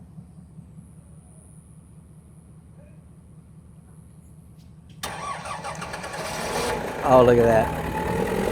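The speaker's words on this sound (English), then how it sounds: "Let's see if it cranks up with the repair that we just made." A heavy machine's engine, just fitted with a repaired fuel solenoid, cranks and then fires into a loud, steady running roar after a quiet, low idle-like hum, with a brief spoken exclamation near the end.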